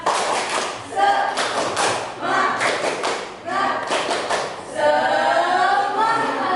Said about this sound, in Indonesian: tepuk tangan pas sekali.